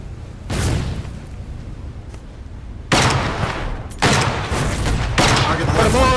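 Naval guns in the Foxhole war game fire in heavy bursts, several loud booming volleys in quick succession with rumbling tails, with a voice talking over the gunfire.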